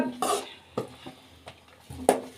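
Potatoes and peas fry in a pan while a utensil stirs them, giving a series of close scrapes and light metallic knocks over a low sizzle.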